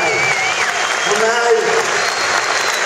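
Sustained, dense applause fills an arena after a WFL 2017 kickboxing fight, loud and even throughout, with crowd noise and a voice over it.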